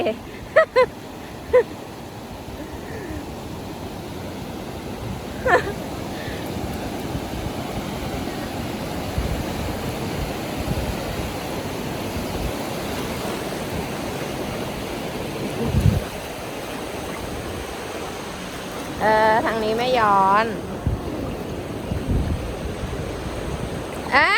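Sea waves rolling onto a beach, a continuous near surf wash with wind buffeting the microphone, while a small child and an adult talk and call out over it at times.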